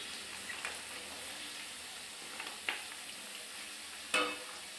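Potatoes frying in a pan for a dried fish curry, a quiet, steady sizzle with a few soft clinks and scrapes of stirring, one sharper clatter near the end, no talking.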